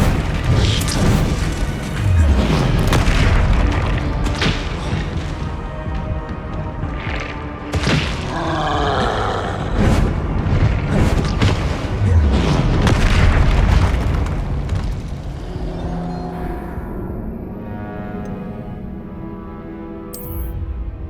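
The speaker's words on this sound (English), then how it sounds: "Confringo." The Confringo fire spell goes off in Hogwarts Legacy on PS5 with a run of loud, heavy booms and crashing blasts, followed by a rumbling tail that fades near the end.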